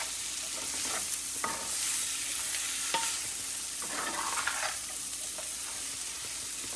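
A pan of amla, ginger and chilli pickle cooks with a steady low sizzle, while a spoon stirs it with occasional soft scrapes and clicks, close by and moderately quiet.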